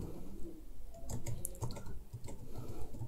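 Quiet clicks of typing on a computer keyboard while searching for McAfee antivirus on Amazon: a short, irregular run of light keystrokes with no talking.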